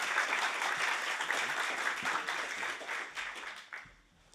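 An audience applauds to welcome a speaker at a Social Security academy for interns, steady dense clapping that holds for several seconds before quickly dying away.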